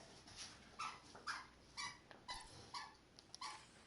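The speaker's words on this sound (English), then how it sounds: "the puppy's having fun back here" A puppy yips and whimpers in a string of short, high cries at a steady rhythm, fairly faint, with no talk over them while playing in the background of a live gaming stream.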